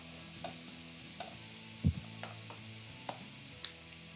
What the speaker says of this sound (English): Looks like I'm grilling inside